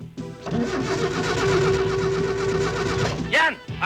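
Car engine cranking repeatedly without catching because it has run out of fuel, a loud, rhythmic churning starter drone lasting about three seconds, followed by a brief sputter and a voice.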